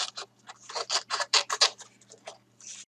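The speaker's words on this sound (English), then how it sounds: "next I am going to fussy cut these butterflies out" Scissors fussy cutting out paper butterflies for a slimline card, a quick run of close, crisp snips at an uneven pace with short pauses between cuts and no talking.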